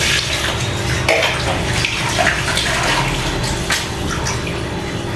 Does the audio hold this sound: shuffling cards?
no